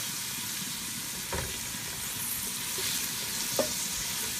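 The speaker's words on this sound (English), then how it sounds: "So yeah, I just have to let the onions just get cooked." Onions frying in a pan with a steady sizzle, stirred with a silicone spoon that makes a couple of soft scraping strokes; close and moderately loud, no talking.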